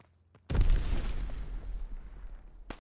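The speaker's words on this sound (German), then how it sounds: "Werfe Granate!" A grenade in Call of Duty: WWII detonates with a sudden loud blast after a brief quiet moment, followed by a long, rumbling, debris-filled roar that slowly fades, ending with a short sharp crack.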